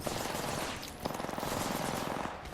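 Rapid automatic gunfire in the Apex Legends video game, a dense sustained burst of shots running through the whole clip with a brief lull near the middle, loud and close.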